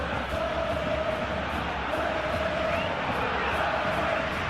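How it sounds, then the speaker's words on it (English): A simulated stadium crowd at an eFootball Barcelona vs Atletico Madrid match gives off a steady, dense roar that holds at an even level from start to finish. "the crowd clearly like what they just saw"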